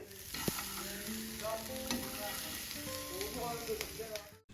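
Steamed carrots roast in a pan over a high flame, a continuous crackling sizzle with frequent stirring scrapes and clinks of a spatula, ending abruptly.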